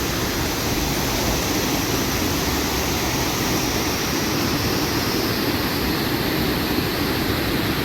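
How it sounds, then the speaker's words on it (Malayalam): A waterfall at a hilltop viewpoint near a Jesus statue gives a steady, loud broadband roar of rushing water that runs unbroken through the whole stretch, with no voices. "ഇവിടെ ഒരു നല്ല അടിപൊളി വെള്ളച്ചാട്ടം."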